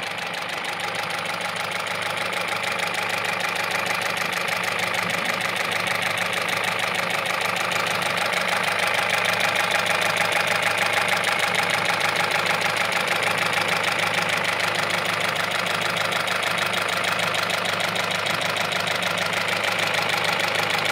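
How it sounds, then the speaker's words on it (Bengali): A car engine with a fault idles steadily in a workshop, a rough, repetitive knocking clatter running throughout, loud and close, with no voices. "ওয়ার্কশপে নামানোর পরে গাড়ির ইঞ্জিনের সাউন্ড কী অবস্থা এটা বুঝতে পারতেছেন"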